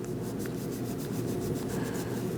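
Front brake caliper pins and bracket of a 2013-2019 Cadillac ATS are cleaned, a continuous close scrubbing and rubbing noise with a fast, uneven rhythm throughout.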